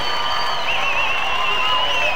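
Bodybuilding contest crowd at a Musclemania pro division show cheering and shouting steadily throughout, a dense wall of voices with whoops rising over the roar.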